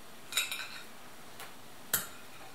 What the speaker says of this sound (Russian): Хорошо перемешаю. Ложечкой, вилочкой, вилочкой,